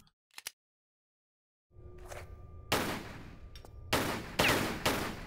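Gunfire in Tomb Raider 3 Remastered: a couple of faint early clicks, then a run of loud, sharp shots with noisy reverberant tails, spaced about a second apart, following a low rumbling ambience.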